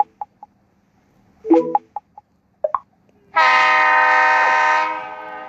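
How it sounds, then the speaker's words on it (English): A train in a train station tycoon video game sounds a long, loud, steady horn-like tone that lasts about two seconds. Short electronic game blips and chimes come before it. "So I got this train."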